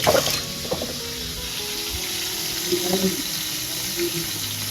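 Hands being washed under a running tap, with a steady stream of water splashing into a sink and a few louder splashes and shifts in the flow, close by.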